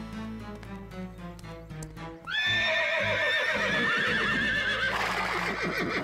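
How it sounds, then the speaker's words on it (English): In an animated cartoon, a loud horse whinny rings out over a background of music, with other horse noises mixed in. "these horses sure are noisy for some reason"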